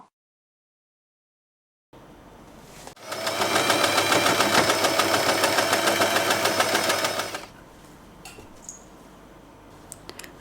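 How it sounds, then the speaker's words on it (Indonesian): A sewing machine stitches satin ribbon for a hair bow, running in a steady, fast mechanical whir for several seconds before stopping, followed by light handling clicks. "Nah, kita jahit bagian ini."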